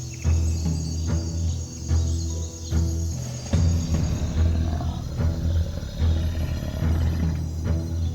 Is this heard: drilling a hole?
no